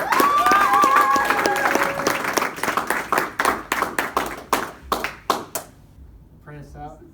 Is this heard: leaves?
no